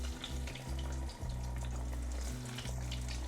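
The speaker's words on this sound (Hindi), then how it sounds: "तेज़ आंच में नहीं फ्राई करेंगे, मीडियम टू हाई हीट में फ्राई करेंगे, अंदर तक पूरे पक जाने चाहिए।" Veg Chinese kebabs fry in oil over medium-high heat, giving a steady close sizzle with a low bubbling hum and brief dips, and no talk over it.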